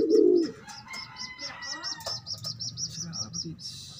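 White pigeons give a loud, low coo up close, followed by softer, rapid repeated chirping calls.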